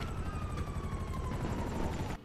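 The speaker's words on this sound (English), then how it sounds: "Yep, there's a stealth helicopter." A stealth helicopter in a video game gives a steady droning whir with a siren-like tone sliding slowly downward. It plays loud and unbroken for about two seconds, then cuts out sharply near the end.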